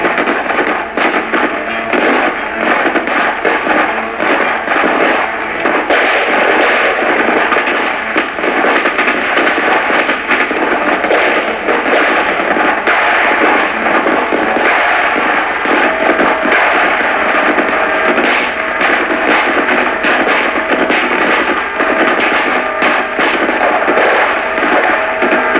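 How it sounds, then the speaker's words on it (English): A dismounted US Army rifle squad exchanges fire in a vintage training film, a dense, continuous crackle of rifle shots and bursts, loud and sustained throughout with no speech. "The men take cover and immediately return the fire."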